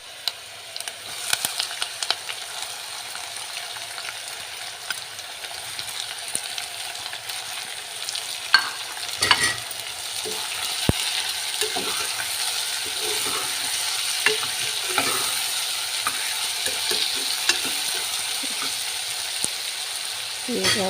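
Onions and curry leaves crackle in hot oil for a Telugu bottle gourd chutney and tamarind stew, a long steady sizzle with frequent clicks and scrapes of stirring, and a faint voice in the background.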